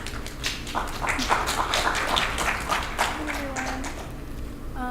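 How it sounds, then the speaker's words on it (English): Audience applause at a university piano masterclass, a sustained broadband wash of clapping that fills the room at steady loudness before fading, with a faint voice and a brief tone near the end. "Give her a round of applause."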